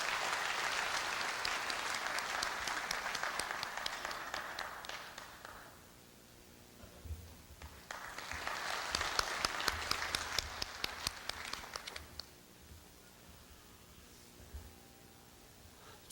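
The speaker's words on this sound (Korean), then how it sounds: "큰 박수로 교우회장님을 맞이해 주시길 부탁드립니다" An audience breaks into applause to welcome the alumni association president at Korea University's 110th anniversary ceremony: a broad burst of clapping for about five seconds, a quieter lull, then a second full swell before it fades.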